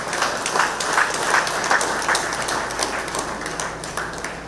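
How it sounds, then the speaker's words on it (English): Applause from an audience at an afternoon outreach programme in a civic centre in Moruga, Trinidad: a steady, moderately loud wash of many hands clapping together, with a few sharper individual claps standing out and no voices over it. "I would like each and everybody with a loud round of applause."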